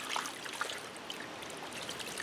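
Plant roots are shaken in a 5-gallon pail of water, making a soft, continuous sloshing and trickling with small splashes, faint and close, with no voices.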